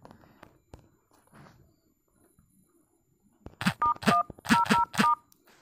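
A phone keypad beeps as a top-up card code is entered, giving five or six distinct DTMF tones in quick succession after a few soft taps and rustles.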